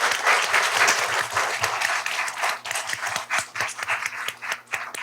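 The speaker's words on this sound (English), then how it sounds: "So let's give her a round of applause, please." An audience at a school board meeting breaks into loud, sustained applause, many hands clapping in a dense patter that thins toward the end.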